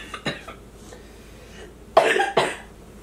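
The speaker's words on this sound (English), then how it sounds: "I'm about to cough, and I am going to do it on camera." A woman coughs close to the microphone, first two or three short coughs and then a louder double cough after a pause, in a quiet room.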